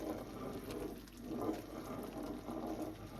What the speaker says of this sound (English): Just take your time, gentle pour, keep it on the boil.